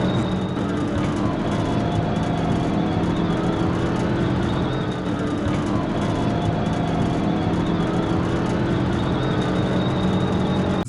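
A car speeds hard through city intersections during a police chase, its engine and road roar a steady, loud, continuous wash with no breaks or talk.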